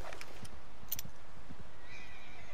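A horse in Red Dead Redemption 2 whinnies loudly, its neigh rising over game ambience with soft clip-clop hoofbeats underneath, close and clear for a couple of seconds.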